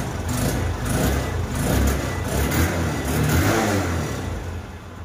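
A freshly rebuilt engine is revved in a mechanic's workshop, its low rumble swelling and easing in several gentle rises over a steady idle. It runs close and continuous, with no voices.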